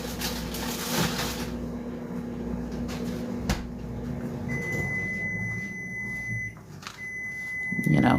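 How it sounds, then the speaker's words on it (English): A kitchen microwave or oven beeps with steady high electronic tones while preheating, sustained over a low household hum, with a sharper tone starting partway through and a brief clunk near the end. "so if you hear beeping, it's the microwave or the oven heating up, preheating."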